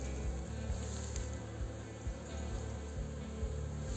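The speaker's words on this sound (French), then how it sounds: "Donc c'est bon, il y a des abeilles" Honeybees hum around an open beehive at an apiary being prepared for winter, a continuous close buzzing drone with low steady tones and occasional louder passes of single bees.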